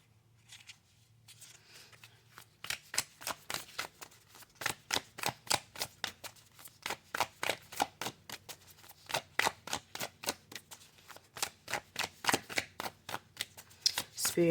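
Oracle cards, a Lenormand deck, being shuffled by hand for a reading: a long steady run of crisp, close riffling bursts in quick even rhythm, with no talk over them.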